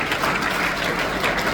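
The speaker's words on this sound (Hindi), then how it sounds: "एक बार जोरदार ताली हमारे अध्यापकों को।" Crowd at a school results celebration clapping for teachers, a dense, steady burst of applause from many hands filling the whole moment with no talk on top.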